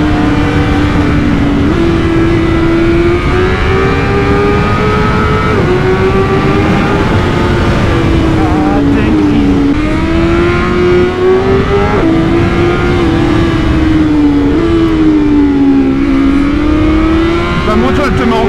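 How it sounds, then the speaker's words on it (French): A four-cylinder motorcycle engine revs and pulls hard on a ride, its pitch climbing and dropping through gear changes, loud and close with wind rush, while a rider talks over it. "Le son du 4 cylindres il est magnifique"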